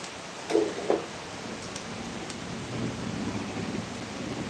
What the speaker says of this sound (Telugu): మా తణుకులు ఎంత పెద్ద వర్షం వస్తుందో